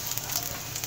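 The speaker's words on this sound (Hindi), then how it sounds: "अब हम सबसे पहले इसमें फ्राई करेंगे अदरक लहसुन।" Ginger, garlic, whole coriander, cumin and ajwain fry in oil over a low flame, a soft continuous sizzle with faint crackles, quiet and steady without speech.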